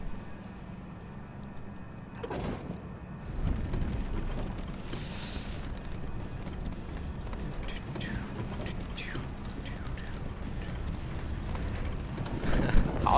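Horse hooves clip-clopping in the video game Elden Ring, a continuous run of rhythmic hoofbeats at moderate distance over a low background rumble, with a few brief sharper clicks and swishes along the way.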